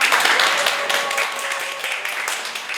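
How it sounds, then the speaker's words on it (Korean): Audience applause at a church young-adult group lecture, a dense, steady patter of many hands clapping throughout, moderately loud and close, with no speech over it. "유명한 분 박수로 축하하겠습니다"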